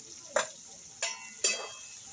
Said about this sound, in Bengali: দিয়ে আলুটার সঙ্গে মশলা একটু ভালোভাবে মিশিয়ে নেব